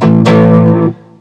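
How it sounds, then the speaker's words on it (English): Electric guitar power chords played through heavy distortion: two loud, thick chord hits in quick succession, the second ringing out briefly before being choked off, with no talking. "Today we're gonna work on a simple chord progression using power chords."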